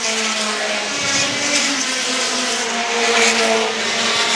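Mini stock race cars roar around a speedway track in a feature race, a loud continuous engine drone with shifting pitch as several cars pass, heard from the stands without talk.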